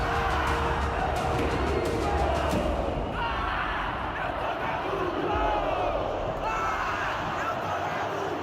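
Large football crowd shouting and roaring in the Mineirão stadium, a dense continuous wall of voices filling the whole stretch at steady loudness, with surges of chanting.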